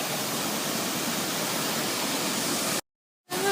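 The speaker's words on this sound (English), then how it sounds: "We're at another waterfall." Roaring waterfall in Vietnam, billed as the Niagara of Vietnam, a steady, loud broadband rush of falling water that fills the scene, briefly cutting to silence near the end before resuming.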